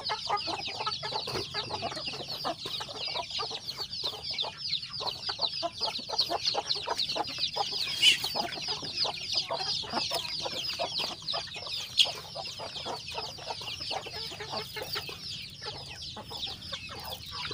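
Many chickens cluck continuously in a crowded coop on a poultry farm, a steady dense chatter of hens that stays moderately loud throughout, with no talking.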